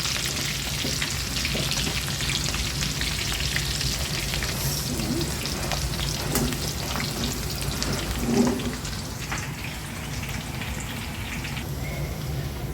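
Ground egusi melon seed fries in a pot with a constant, dense crackling sizzle that runs unbroken, plus a few soft knocks and scrapes from stirring and no voices.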